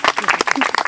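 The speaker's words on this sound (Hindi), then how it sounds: "आईसीयू के लिए जोरदार ताली।" A brief burst of loud clapping from an audience at a student felicitation event, sharp close hand claps in quick irregular succession over about a second.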